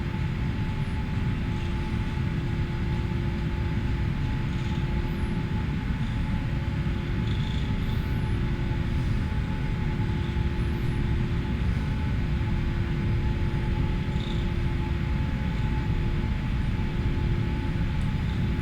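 Jet airliner engines at takeoff thrust in Flight Simulator X give a loud, continuous broadband roar with a faint steady whine above it, unbroken and constant throughout.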